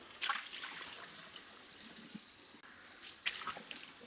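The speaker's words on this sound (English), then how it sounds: "we'll just put it under the water here and see how it does just with water alone at first" Running tap water pours onto a HexClad frying pan being rinsed, a soft, faint trickle and splash with a couple of louder spatters, no voices.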